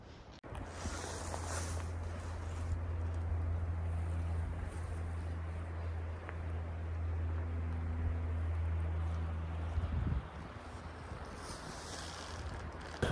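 Steady wind blowing high overhead on a calm fall morning at Gem Lake, a broad continuous rush with a low droning hum underneath, no voices.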